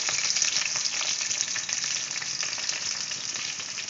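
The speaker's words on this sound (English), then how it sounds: "So here now I'm frying the capsicum." Steady, loud sizzling of capsicum frying in hot oil, a dense crackle that carries on without a break and with no talking.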